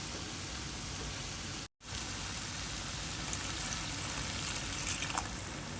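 Half a glass of water poured into a pan of potato and pea masala sets off a steady, close hiss and sizzle, broken by one brief silent gap.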